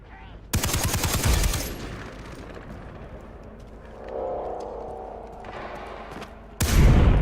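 Gunfire in the video game Far Cry 3: a sustained burst of rapid shots, a quieter stretch of ambient rumble and faint effects, then another loud volley at the end.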